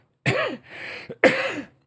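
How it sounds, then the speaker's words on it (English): Close throat clearing followed by a short cough, a few rough bursts in quick succession, loud against silence. "There he goes, clearing and coughing."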